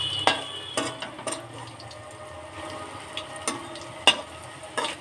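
Food fries in a shallow layer of oil in a pan, a quiet crackling sizzle punctuated by several sharp clicks and taps of a utensil being turned.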